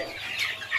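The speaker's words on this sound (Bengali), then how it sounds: "এলো এলো আমার লোকাল মুরগি।" Local chickens on a farm of about 300 birds, 40 days old, in Abhayapuri, Bongaigaon, Assam, give a couple of quick, close clucks in a short burst.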